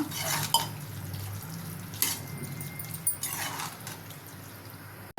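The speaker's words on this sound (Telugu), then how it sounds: "రెండు గ్లాసులు నీళ్ళు పోసానండి నీళ్ళు పోసి కలిపేసి" Water sloshes in a pressure cooker pot amid clinks and scrapes of a utensil stirring pav bhaji, close by, with no talking.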